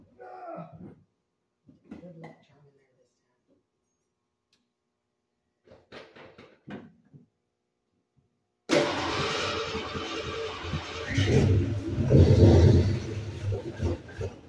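A 1988 Ford 302 V8 on its first start bursts into a loud, rough, rumbling run after several seconds of near silence and a few quiet clicks, continuing steadily to the end.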